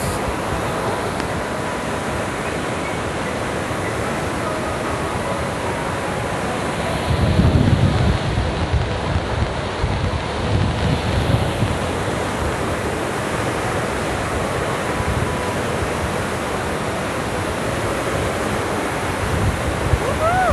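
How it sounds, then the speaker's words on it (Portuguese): Strong wind roars at the Sucuriú waterfall in Costa Rica, a steady broadband rush mixed with falling water, with heavier low gusts buffeting the microphone midway through. "Nossa, cada vento, rapaz!"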